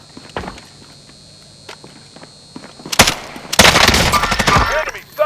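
Hostile gunfire in Call of Duty: Modern Warfare, scattered single shots at first, then loud close bursts of rapid automatic fire and a sustained fusillade in the second half.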